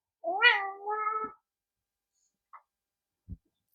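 A cat gives one close, drawn-out two-part meow, followed by silence and a couple of faint soft taps.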